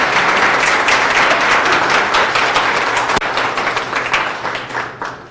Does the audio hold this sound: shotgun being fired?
no